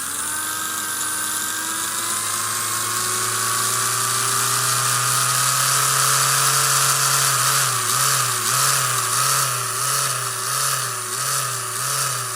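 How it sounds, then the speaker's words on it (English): A Scalextric Lamborghini slot car's tuned-up electric motor whines loud and close, its pitch climbing steadily, then warbling rhythmically up and down as the trigger is pulsed in the second half. "let's first of all fire up the motor and see what she sounds like now"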